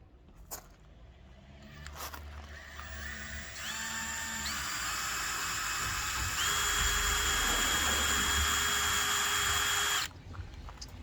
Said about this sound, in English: I'm literally just going to slowly drill through.